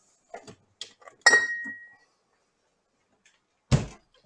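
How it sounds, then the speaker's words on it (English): Soy sauce from a bottle is poured into a glass in a quiet kitchen, giving a few sharp close glass clinks and a brief ringing tone, then one louder knock after a pause. "So I'm going to put this in a glass."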